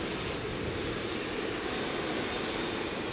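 Qatar Airways A380 airliner at Heathrow produces a steady, loud broadband engine roar with no break, sustained and close.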